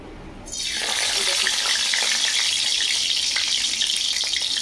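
Lentil fritters wrapped in ash gourd leaves hit hot oil with a sudden loud sizzle. The steady, hissing frying then continues close by for several seconds without a break.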